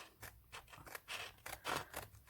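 Basic blue-handled scissors cut through glitter-backed faux leather for a hair bow, with a quick series of close, crisp snips and crunches in an uneven rhythm.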